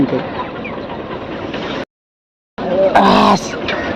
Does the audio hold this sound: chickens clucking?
yes